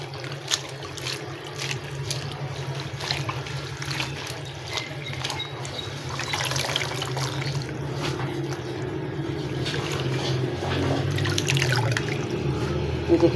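Water sloshing and trickling in a tub as fenugreek leaves are swished and rinsed by hand, a steady close-up splashing that grows busier toward the end.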